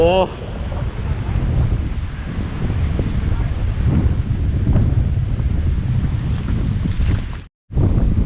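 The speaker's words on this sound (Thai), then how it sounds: "ลมค่อนข้างแรงครับ" Strong sea wind buffets the microphone on an Andaman Sea beach during a fishing trip, a loud, steady roar and rumble filling nearly the whole stretch before briefly cutting out near the end.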